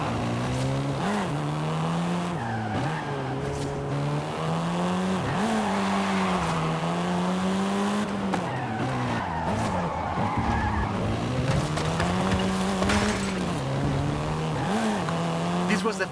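A Volkswagen Golf R, the seventh-generation hot hatch, races in Forza Horizon 5, its engine note droning and wavering steadily through gear changes while tyres squeal and skid, loud and continuous throughout, with a voice talking over it.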